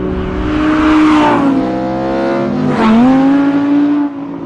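Audi R8 V10 plus engine on a race track, loud and close, revving up in two rising sweeps with a brief dip between, a strong harmonic howl climbing and falling as it accelerates.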